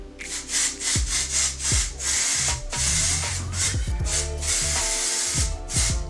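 Close, repeated hissing bursts of a hair product spray bottle in a steady rhythm, mixed with rubbing and brushing sounds, during a silk press.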